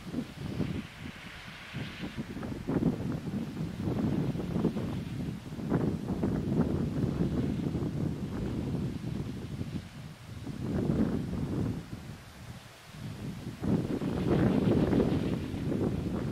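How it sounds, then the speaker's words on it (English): Gusty wind buffeting a microphone near small home wind turbines, rising and falling in irregular surges with rustling, fairly soft and without speech. "you can see a little gust push that one turbine around"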